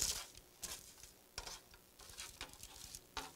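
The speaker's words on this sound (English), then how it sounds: "we want to stir that gently into the rice until it's blended in there" Cauliflower stirred gently into a hot, steaming rice blend, producing faint soft scraping and light irregular spoon strokes against the dish, quiet and close with no voices.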